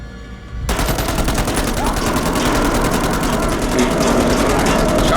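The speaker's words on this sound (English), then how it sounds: "Do you hear gunshots?" Rapid automatic gunfire in the horror video game Man of Medan, a loud continuous rattle of closely spaced shots over a low rumbling drone, starting abruptly after a quiet moment.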